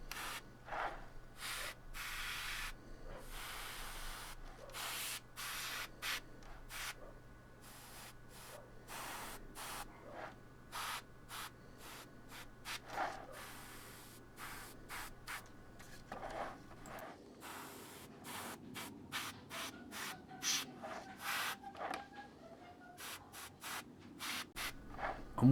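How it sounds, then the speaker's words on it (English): Airbrush spraying Live Colour Deep Rust paint onto a Nurgle Plague Hulk miniature, heard as repeated short bursts of soft, close hissing, with a faint steady hum from a compressor beneath. "So I'm using Live Colour's Deep Rust colour here and airbrushing it in sparing patches"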